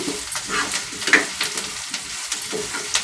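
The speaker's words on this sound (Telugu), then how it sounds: "ఇప్పుడు ఇందులో వేసేద్దాము అరటికాయ ముక్కలు కానీ బాగా ఫ్రై అయ్యేదాకా వేయించుకున్నాము" Raw banana pieces fry in a pan with a steady, close crackling sizzle, broken by brief stirring scrapes and small pops, with no talk over it.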